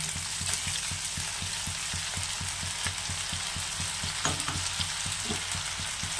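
A paste of onion, garlic, ginger, cumin, chili powder and turmeric fries in oil for an amudi fish curry, with a constant hissing sizzle and regular soft thumps from steady stirring, no voices.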